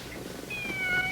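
A single fairly faint, stretched-out meow from a house cat begins about halfway through and falls slightly in pitch against a quiet background. No one speaks.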